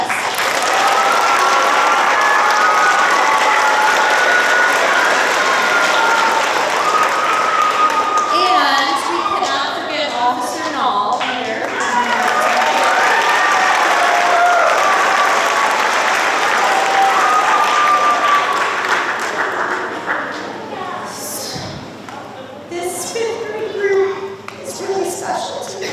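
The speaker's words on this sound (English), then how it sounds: "I would like to give them a round of applause" Sustained, loud audience applause fills a spring concert hall for the helpers, with a voice speaking over the clapping midway before it thins out near the end.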